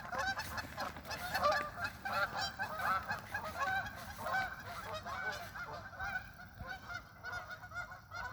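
Geese honking in a busy chorus, many overlapping calls in irregular bursts, moderately close, with soft background noise and no talk.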